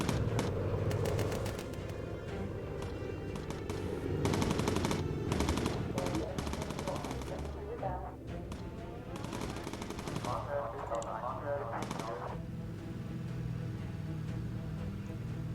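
Machine guns firing from a bomber in Bomber Crew, loud rapid bursts that repeat through the scene, stopping briefly and then resuming, with talk over them at times.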